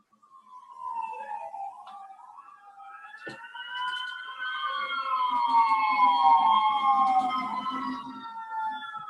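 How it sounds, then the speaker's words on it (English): Several emergency sirens wail outdoors. Their rising and falling tones overlap and grow louder as they seem to approach, with a low rumble underneath. "there are even sirens here in this area"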